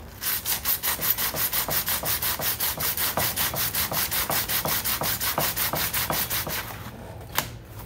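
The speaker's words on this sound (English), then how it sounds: "Continuing to grind." A chromatic harmonica slider being sanded by hand, a close, loud, steady back-and-forth rasp in quick even strokes that keeps going for several seconds, then stops with a single light knock and no voices.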